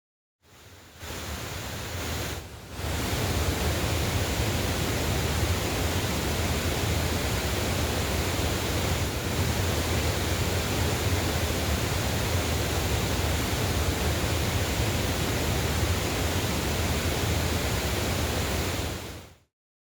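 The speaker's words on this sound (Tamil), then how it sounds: "கனமழை காரணமாக பழைய குற்றால அருவியில் காட்டாற்று வெள்ளம் குறையவில்லை." Flood-swollen Old Courtallam waterfall on the Thamirabarani river after heavy rain, a loud, steady, unbroken roar of crashing water that lasts throughout.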